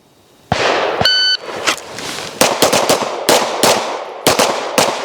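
Pistol shots ring out sharply and close during draw training: a timer beep, then a rapid string of individual gunshots in quick uneven bursts, each with a brief echo.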